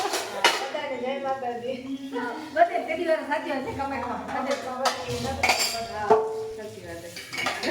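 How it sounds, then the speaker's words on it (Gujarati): Steel household utensils and dishes being scrubbed by hand, with repeated clinks and clatters of metal against metal close by, under continuous conversation throughout. "તો આખા વાસણ એમ જ ઘસે"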